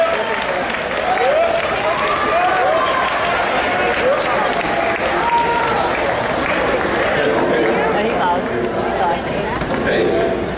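High school graduation audience at a baccalaureate ceremony standing to applaud, a loud, sustained wash of clapping with cheering and crowd chatter mixed in throughout.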